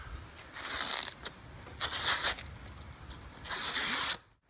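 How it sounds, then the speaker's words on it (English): Adhesive tape is peeled from a tank during a wrap installation, three loud ripping pulls of a second or so each, close up and separated by short pauses, with no voices. "Now we can pull the rest of our tape off."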